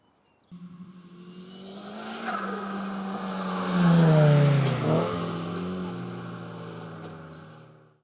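A Toyota TR86 race car engine starts up and revs, climbing to a loud peak midway before settling and fading out over several seconds.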